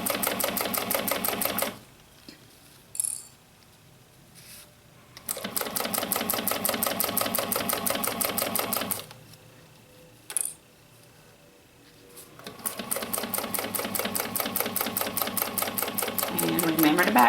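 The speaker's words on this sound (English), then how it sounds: "So sew all the way across" Domestic sewing machine stitching across the exterior seam of an Urban Tote bag, fast regular needle clatter in three bursts separated by short pauses, close and loud, with a couple of small clicks between runs.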